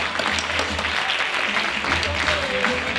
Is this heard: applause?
yes